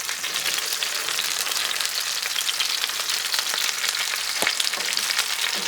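Chicken pieces sizzle and fry on a Blackstone flat-top griddle, a steady dense crackle with a few sharper pops.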